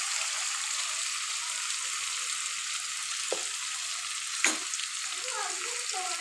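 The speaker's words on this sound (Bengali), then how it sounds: "মশলাটা একটু ভালো করে নেড়ে নিচ্ছি।" Ground spices such as dried chili and coriander powder fry in a pan with a steady close sizzle while being stirred, with a couple of brief scrapes of a spoon against the pan.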